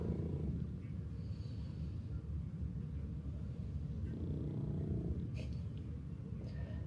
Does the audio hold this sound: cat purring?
yes